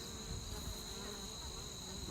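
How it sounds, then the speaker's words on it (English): Honey bees and a yellow jacket buzz in a dense, steady drone right at a backyard beehive in September, near and continuous with no voices. "a yellow jacket just went in there"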